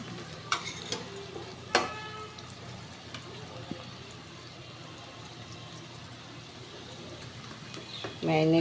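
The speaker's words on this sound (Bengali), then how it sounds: "পেঁয়াজটা লাল করে ভাজলে এর একটা আলাদা সেন্ট হয়" Onions browning in a pan give a soft, continuous low sizzle with a few sharp clinks of stirring early on, fairly quiet, and a voice briefly begins at the very end.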